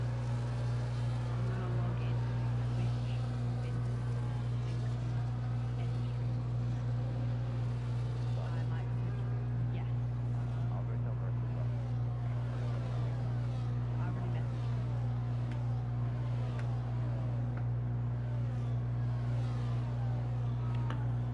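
Mercedes and McLaren race cars in a sim racing game at Silverstone, a steady engine drone with a constant low hum running throughout under commentary.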